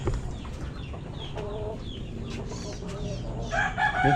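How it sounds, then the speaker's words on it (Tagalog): A hen clucks close by from a nest in a steady series of short calls, a louder squawk breaking in near the end, with farmyard noise underneath. "May manok sa pugad."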